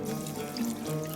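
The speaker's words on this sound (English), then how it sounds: "diluted it in water, and I'm going to pour this in," A mixture of wheat flour and nihari masala diluted in water, poured into a pot of mutton: a short, soft, steady trickle and splash of liquid, faint and with no voices.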